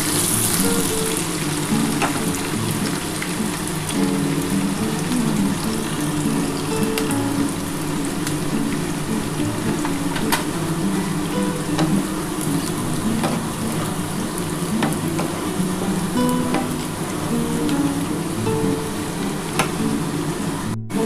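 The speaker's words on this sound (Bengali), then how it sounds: "একটু ভালো করে ভেজে দিই পেঁয়াজটাকে" Chopped onion fries with cardamom in a pan as the base for a chicken dish. A steady, moderate sizzle holds evenly throughout with faint clinks now and then, and no talking.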